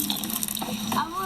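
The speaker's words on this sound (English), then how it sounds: "He's walking through the garden with his watering can." Water pours from a watering can onto plants in a garden, a steady splashing trickle running throughout the short moment at moderate loudness.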